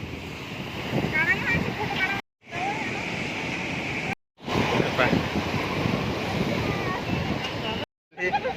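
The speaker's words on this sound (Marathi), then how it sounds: "ती लाटा येत आहे" Ocean waves wash onto a beach at Daman, Gujarat, a steady, close surf roar mixed with heavy wind buffeting on the microphone, with voices talking over it and a few brief dropouts.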